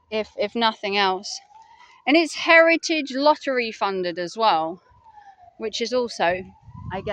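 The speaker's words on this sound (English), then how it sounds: "Excuse the siren in the background" A siren wails faintly in the background, rising and falling under steady close speech from a single talker, at Hardwick Road Cemetery in King's Lynn.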